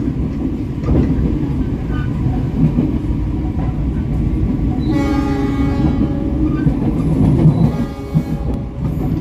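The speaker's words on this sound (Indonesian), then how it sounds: "Kereta api Cikuray saat ini melintas langsung stasiun Wanaraja dan nanti bakal melintas Pasir Jengkol terus masuk stasiun Cibatu" Cikuray economy-class passenger train running straight through Wanaraja station, a loud steady rumble of wheels and carriages with a horn sounding clearly midway and rattling on to the end.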